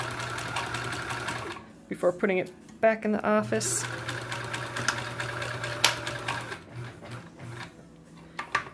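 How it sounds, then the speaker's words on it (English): A home sewing machine runs in short rapid stitching bursts at close range, its whirring and clatter mixed with ongoing talk and a steady background hum. "So I might leave the sewing machine out here for a little bit."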